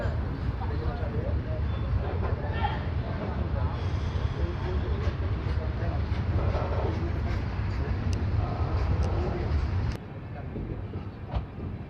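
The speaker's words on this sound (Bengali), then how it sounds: "কিছুক্ষণ দাঁড়ানোর পর ফারাক্কা স্টেশন থেকে ট্রেন ছেড়ে দিয়েছে" An express train from Balurghat to Sealdah pulls out of Farakka station, heard from the open doorway as a steady heavy rumble with rail clatter that drops noticeably near the end.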